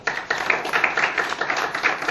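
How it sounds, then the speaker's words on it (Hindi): A seminar audience gives a hearty round of applause, loud rhythmic hand clapping from many people that continues unbroken from start to finish with no talking over it. "फिर एक जोरदार ताली"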